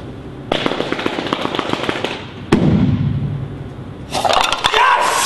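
A student-built air cannon fires with a loud sharp blast, followed by crackling clatter and a second burst as the projectile strikes the target, close and punchy.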